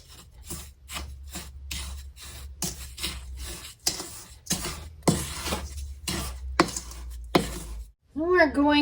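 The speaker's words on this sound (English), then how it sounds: "We are going to add 1 cup of powdered sugar. And we're going to go ahead and mix that around." A spoon scrapes and rasps steadily against a bowl as crumbled cookies are stirred together with powdered sugar, a close, rhythmic gritty sound that repeats throughout, with a brief clatter at the end.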